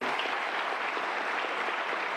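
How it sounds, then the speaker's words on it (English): Audience applause for a moderator after a lecture by a historian at a public event in Kalamazoo, Michigan; steady, full, continuous clapping from a sizable crowd with no talk over it. "let's give an excellent round of applause to our moderator, Stephen Marsh, as well."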